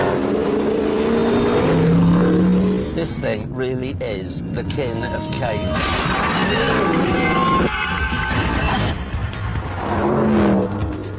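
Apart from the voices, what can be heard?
Mercedes AMG 6.2-litre engine car accelerating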